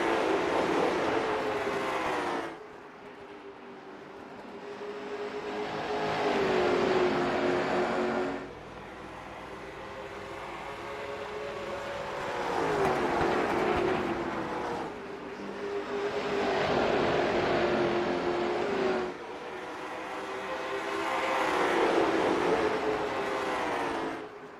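Race cars lapping a track late in a race, engines swelling and fading in repeated passes roughly every six to seven seconds, each a rising then falling roar with a steady pitched drone, moderately loud.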